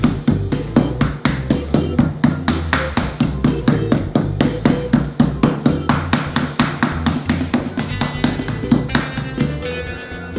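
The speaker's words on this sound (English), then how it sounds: "we just finished pounding our chicken" A meat hammer pounds chicken breast flat, striking in a steady rapid rhythm of close, sharp taps that continue without pause throughout.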